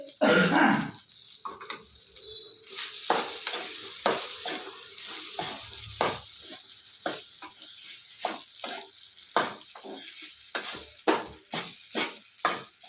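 Mint rice being fried and stirred in a pan, with repeated sharp scraping strokes of a spatula over a faint sizzle, close and rhythmic, no voices.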